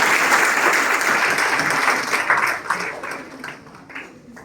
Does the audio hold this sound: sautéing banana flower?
no